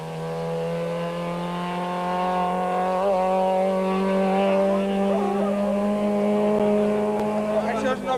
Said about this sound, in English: One by one, in 2-minute intervals, the cars enter the stage.